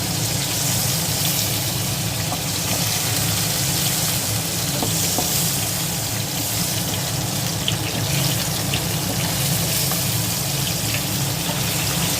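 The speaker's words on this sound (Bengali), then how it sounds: "একদম হালকা ভাজবো, জাস্ট একটু লাল লাল হলেই আমি এটাকে তুলে নেব।" Prawns lightly frying in a pan for Bengali-style chingri maharani, giving a steady, dense sizzle that holds at an even level throughout with no voices.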